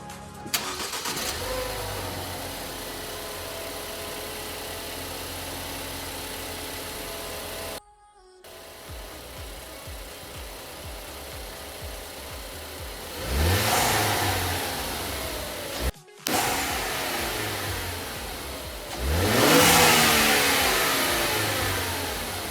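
A Ford Focus ST turbo engine on its stock air filter, recorded outside the car, idles steadily and then revs hard in two loud, rising and falling throttle blips with a clear turbo whoosh, separated by short breaks.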